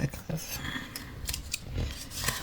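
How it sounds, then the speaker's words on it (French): Scissors snip through paper while making a vintage shabby-style scrapbooking card, giving crisp, close cuts in quick uneven bursts over a soft background. "j'ai pris les mauvais ciseaux"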